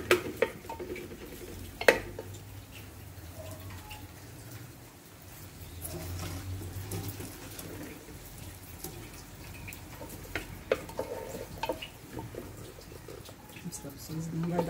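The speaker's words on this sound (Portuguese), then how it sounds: "Dá uma mexidinha aqui." Beef, onion, garlic and bell pepper are stirred in a pot on a wood-fired stove, with a spoon scraping and clinking against the pot over a soft sizzle while a person talks.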